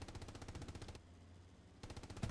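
MG42 machine gun firing in a World War II video game, a very fast ripping burst for about a second, a short pause, then another rapid burst, steady and mid-distance.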